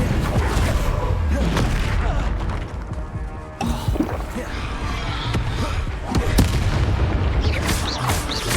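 Confringo blasting curses in the Hogwarts Legacy game fire off repeated heavy booms and thuds in a busy combat mix, with a voice speaking over the blasts.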